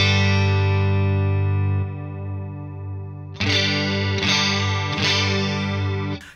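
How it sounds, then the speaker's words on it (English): An electric guitar rings out a sustained clean chord, then a Behringer UC200 Ultra Chorus pedal comes on and three strummed chords shimmer with a swirling chorus, close and steady, slightly quieter overall. "then I'll turn the pedal on."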